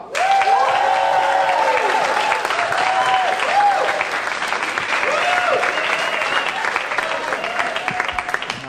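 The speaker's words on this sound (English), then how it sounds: "Thank you for applauding." Studio audience applauding a comedian as he walks onto a club stage, a dense, steady round of clapping with scattered cheers and whoops that holds loud throughout before easing slightly near the end.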